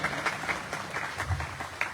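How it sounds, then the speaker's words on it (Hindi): A school event audience gives a round of steady applause, dense clapping from many hands filling the space evenly throughout, with no voice standing out over it. "एक जोरदार तालियों से इनका स्वागत किया जाए"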